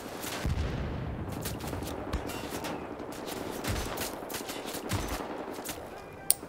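Gunfire in a Wolfenstein video game, with repeated sharp shots and rapid bursts cracking out at irregular intervals over a steady din of battle noise, one loud final shot near the end.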